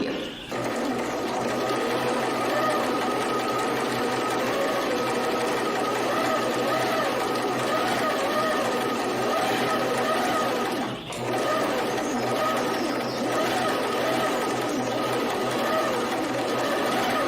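A sewing machine runs steadily for a long stretch while stitching a straight seam, a continuous close whirring hum with only one brief pause near the middle.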